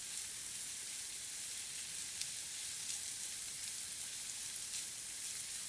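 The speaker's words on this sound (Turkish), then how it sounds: "Soğanınızın kavrulması biraz zaman alabilir" Onions slowly fry and caramelize in a pot with a faint, even crackling sizzle throughout, a few tiny pops standing out.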